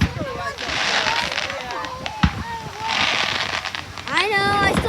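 Fireworks go off outdoors in rapid clusters, dense crackling bursts with whistling streaks and booms, loud and continuous, while voices talk excitedly over them.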